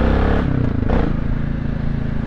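A loud motorcycle engine idles and rumbles close by, running rough and thuggish with a strong low throb and a brief rise around the middle before settling back.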